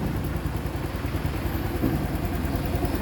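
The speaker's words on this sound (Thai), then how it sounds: "อันนี้สตาร์ทติดแล้วนะครับ เนี่ยเครื่องเงียบมากนะเครื่องตัวใหม่" A new 2025 Honda Wave 110i motorcycle with alloy wheels idles close by after starting, giving a quiet, steady low engine putter with an even rhythm and no talk over it.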